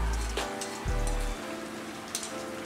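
Odading dough frying in oil, a steady close crackle and sizzle with a few low thumps along the way.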